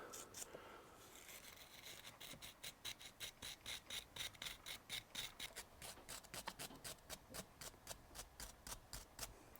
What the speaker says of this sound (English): I'm going to use a brass brush on here so I don't mess this up too bad, since this is brass and is kind of soft as well.